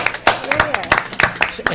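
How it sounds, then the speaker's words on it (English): City council meeting attendees clap briefly for themselves, a handful of close, uneven claps mixed with talking and cheering voices. "So the award goes to everybody, at least in my opinion. So thank you, though. All right. Clap for ourselves."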